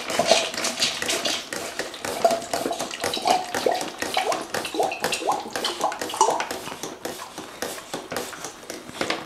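A hand pump draws stored emergency drinking water up through a straw from a WaterBOB bathtub bladder, giving a steady run of splashing, gurgling water with rhythmic pumping pulses, close and continuous.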